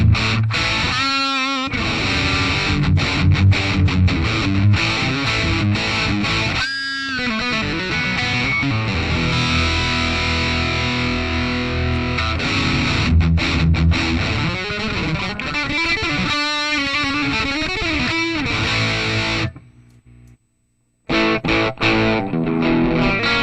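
Electric guitar played through a Joyo preamp pedal on its Marshall JCM 900 setting, giving a loud, heavily distorted tone that rings on continuously with a short silent gap near the end.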